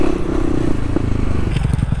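A Kawasaki dirt bike, a KLX300 or KX250F, rides an urban trail, its engine a loud, steady, close buzzing drone with wind buffeting and some rattling and scraping over the top.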